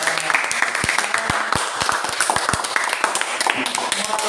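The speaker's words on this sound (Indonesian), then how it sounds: "Oke, baik, tepuk tangan dulu." Students clap together in a classroom during a lesson, a scattered burst of separate, sharp claps that fades out, with voices talking underneath.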